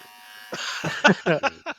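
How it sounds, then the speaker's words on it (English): A beard trimmer with a built-in vacuum buzzes close by in several short, uneven bursts, starting and stopping repeatedly over under two seconds. "That's my new beard trimmer that has a vacuum in it."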